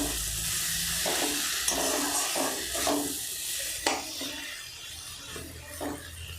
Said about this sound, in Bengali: এবার আমি এর সঙ্গে দেব আলু যে ভেজে রেখেছিলাম, সেই কাটা আলুর টুকরোগুলো দিয়ে দিলাম। দেওয়ার পর একটু নেড়ে নিলাম।